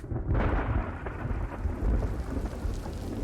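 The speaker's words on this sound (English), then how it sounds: "The sky over Anazot splits apart, showering the dust-covered streets with long-awaited rain." A video game storm plays over the dust-covered streets of a city: steady, dense rain hiss and a deep rolling rumble of thunder fill the whole stretch, with no voices.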